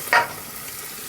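Chopped onion drops into a hot pan for Indian-style macaroni with a short sharp hiss, then settles into a steady, faint sizzle.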